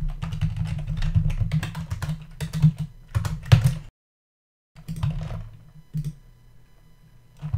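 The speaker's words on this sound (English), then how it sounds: "I'd be able to do that with just a few keystrokes." Computer keyboard keystrokes tap in quick irregular bursts, close and crisp, with a short silent gap before more typing resumes.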